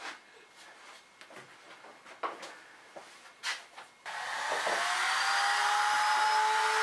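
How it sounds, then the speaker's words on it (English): A router cuts small hinge mortises in wood, preceded by light handling knocks and taps before the motor spins up into a loud, steady high whine for the remaining seconds. "I can remove most of the material with the router, staying inside the line"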